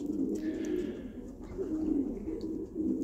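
Racing pigeons, mostly second-year hens, coo steadily in a loft, a low throaty burbling that runs continuously and close by with overlapping calls.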